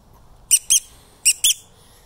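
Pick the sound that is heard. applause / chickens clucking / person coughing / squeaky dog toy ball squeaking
squeaky dog toy ball squeaking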